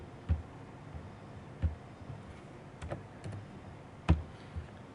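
Keys on a computer keyboard are typed in sparse, irregular clicks, a handful of distinct taps spaced apart, close and quiet with no talking.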